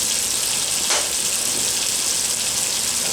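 Water boiling at a steady roll in a pot at the back of a kitchen during pressure canning of potatoes, a constant bubbling hiss with one brief louder surge near the start.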